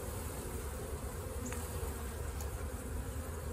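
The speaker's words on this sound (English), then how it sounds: "It's always surprising how energetic these bees are." Dense, steady buzzing of many honey bees close by during a bee rescue by a railroad, a continuous swarming drone with no pauses.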